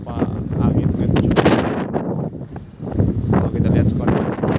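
Strong wind gusting across the Nusantara harbour at Parepare during bad weather, rough buffeting roar against the microphone that swells and eases in gusts, loud and close.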